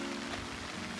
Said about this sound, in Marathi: हे बघा पाऊस आला, चालू झाला परत पाऊस.